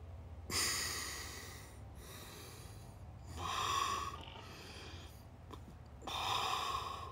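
Slow, deep breaths during a pranayama breathwork exercise: three long, close, audible airy inhalations or exhalations separated by brief pauses, with no talking.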